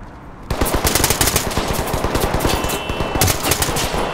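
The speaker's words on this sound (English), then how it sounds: "you're getting shot from multiple people here" Sustained full-auto gunfire in the tactical shooter Ready or Not: rapid, evenly spaced bursts from several weapons overlap in a loud, continuous barrage that runs for about four seconds without pause.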